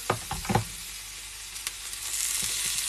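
Butter sizzling in a frying pan with garlic and potatoes, a soft steady crackle and hiss joined by a few brief clatters near the start.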